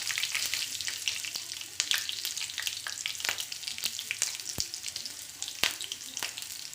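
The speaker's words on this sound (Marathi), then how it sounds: "मोहरी तडतड व्हायला लागली की 2 हिरव्या मिरच्या टाकूया बारीक काप करून" Mustard seeds and green chillies crackle and sizzle in hot oil, a dense close-up frying hiss peppered with sharp pops throughout, with no one speaking.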